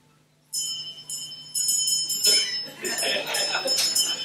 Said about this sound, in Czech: Kolik je to zvonků?